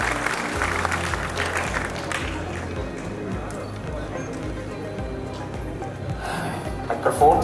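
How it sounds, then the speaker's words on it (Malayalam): An audience at a film's 55th-day celebration stage event claps. The applause rises and falls beneath a speaker's amplified voice, with crowd noise throughout. "നല്ലൊരു ക്ലാപ്പ് ഉണ്ടെങ്കിൽ സുരാജ് സ്റ്റേജിലോട്ട് വരും"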